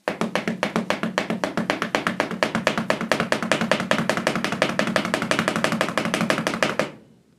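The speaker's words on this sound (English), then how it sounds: "So here's an example of the heel down pedal-less practice technique." Heel-down, pedal-less double bass practice: feet tap a hard floor in a fast, steady, even stream of loud, close strikes for about seven seconds, then stop abruptly.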